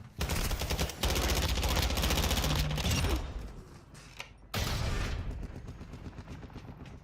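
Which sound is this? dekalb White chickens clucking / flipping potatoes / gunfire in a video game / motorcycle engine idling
gunfire in a video game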